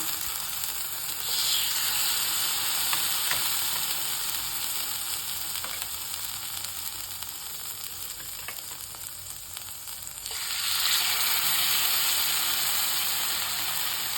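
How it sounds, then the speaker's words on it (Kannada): Marinated paneer frying in ghee for paneer ghee roast gives a steady, close hiss-like sizzle that runs unbroken, swelling louder near the start and again toward the end, with faint occasional ticks. "ಅದನ್ನು ಮುಂದೆ ಗೀ ಮೇಲ್ಗಡೆ ಬಿಟ್ಕೊತೀನಿ"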